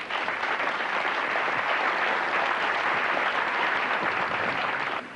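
An audience at the 1988 Apple Expo applauds during a trophy presentation, a dense, continuous wash of clapping from a large crowd that holds steady and then drops off at the end.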